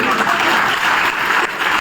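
Brief burst of dense applause from an audience in an auditorium, loud and steady clapping throughout.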